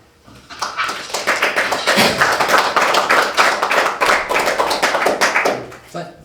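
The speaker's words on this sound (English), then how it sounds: "Did you hear that applause?" Audience applause at the close of an academic seminar talk on ruination and decay, a dense patter of clapping hands that swells quickly and holds steady for several seconds before dropping away.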